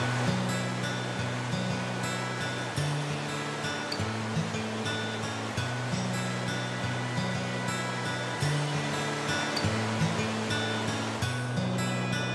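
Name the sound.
river water flowing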